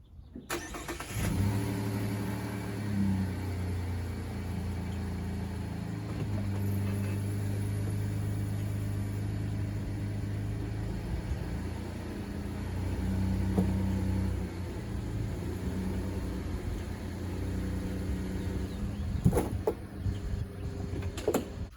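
A 2018 Chevrolet Colorado ZR2 pickup truck idling and creeping forward onto ramps, a low steady engine rumble with a few soft thumps and clicks near the end.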